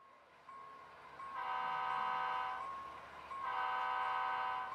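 HO scale model Sounder commuter train departing, with a low rolling hum and two sustained multi-tone horn blasts, the second starting after a brief pause, and no talking.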